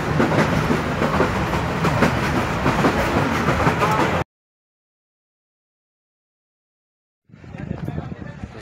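A passenger train bound for Lahore rumbles and clatters steadily from inside a carriage, loud and continuous for about four seconds, then cuts to silence before the rolling noise returns more faintly.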